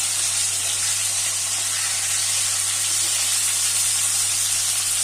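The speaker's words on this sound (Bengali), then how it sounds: "পটলগুলো একটু উল্টে পাল্টে দিচ্ছি।" Young pointed gourds fry in a pan with an even, loud, close hiss that stays steady throughout, with no talking.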